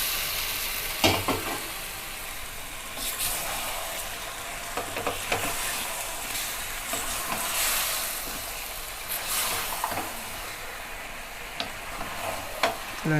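Dry chicken masala frying in oil in a large batch of about 2 kg of chicken, a steady close sizzle with scraping stirs and clatter throughout, no speech.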